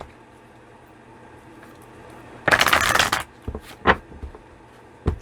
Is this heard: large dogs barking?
no